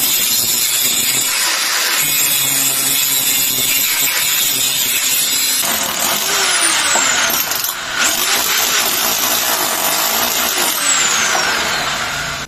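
An impact drill bores into a front door while the door is being replaced, giving a loud, continuous, harsh grinding whine that runs unbroken for the whole stretch with only brief dips in intensity.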